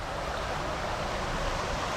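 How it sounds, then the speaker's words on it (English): Creek water rushes steadily down a wooden trough at a grist mill in Norris, Tennessee, making a continuous broadband roar with no pauses, close and fairly loud. "up here the creek comes down through here"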